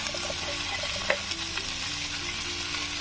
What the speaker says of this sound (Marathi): असं फिरवत राहायचं जेणेकरून ते चिपकणार नाही